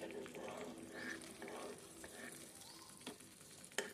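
Halwa thickened with cornflour being stirred in a pan as ghee is added, giving a soft, steady sizzle with scraping strokes and a couple of sharper spoon knocks near the end.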